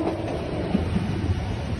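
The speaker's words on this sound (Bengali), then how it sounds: "খুবই সুন্দর একটি কার্ভ দেখতে পাচ্ছেন আমাদের ট্রেনের।" Narsingdi Commuter train rolling along the rails on a curve near Kamalapur station, giving a steady low rumble with a few faint wheel knocks, continuous and fairly close, with no talking.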